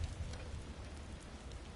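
Steady broadband storm noise in the Alfheim desert of God of War Ragnarok, a continuous windy, rain-like hiss with a low rumble that stays constant and fairly quiet throughout, with no voices.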